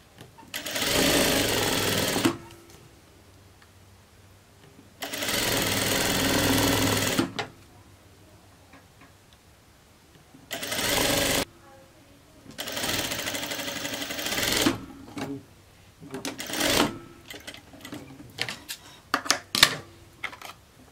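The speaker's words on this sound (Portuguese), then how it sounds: "E agora eu vou voltar, dobrar e passar o pesponto aqui, ó, por cima, em todo ele" A sewing machine topstitches a skirt waistband in several bursts of rapid, steady needle chatter lasting a couple of seconds each, separated by quiet pauses and handling noises, with shorter, choppier runs toward the end.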